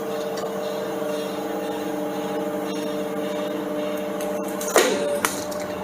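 An areca leaf plate making machine runs with a steady mechanical hum and whine, and near the end a sharp clunk and hiss mark the press coming down on a plate.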